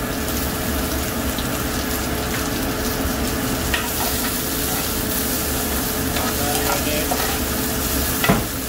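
Mushrooms fry in a pan over medium heat, giving a dense, continuous sizzle that stays loud and close throughout, with faint occasional clicks and scrapes.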